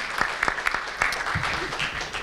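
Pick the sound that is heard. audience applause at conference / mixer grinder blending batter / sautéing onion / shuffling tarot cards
audience applause at conference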